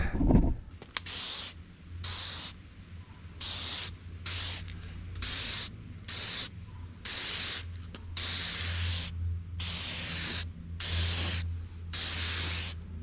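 Clear coat sprayed from a can onto an old, crusty car headlight during restoration: about a dozen loud, close hissing bursts separated by short pauses, with no talking.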